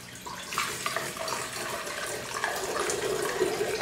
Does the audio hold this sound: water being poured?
yes